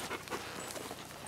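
Catahoula dog panting close by in quick, soft, breathy puffs, faint and steady for about a second, with no voices.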